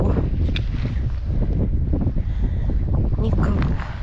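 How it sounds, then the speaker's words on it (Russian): Strong wind blowing outdoors on a frozen lake during a winter ice-fishing trip in a snowstorm, a constant loud buffeting roar against the microphone with gusty low rumble throughout. "Погодка у нас налаживается, ветер сильный, но тепло."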